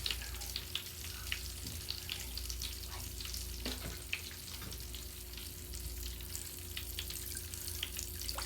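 Mr Bubbles magic bath crackles and pops in water, a continuous close fizzing with scattered sharp little pops over a steady low hum.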